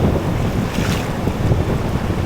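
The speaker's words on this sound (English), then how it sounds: "these waves, they're coming" Ocean surf at Playa Resaca beach on Culebra, Puerto Rico, rolls in as a steady roar, with strong gusts of wind buffeting the microphone close by.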